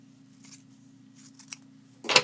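Scissors trimming paper and fabric close to a fold during foundation paper piecing, a few faint snips followed by a sharper, louder cut at the end.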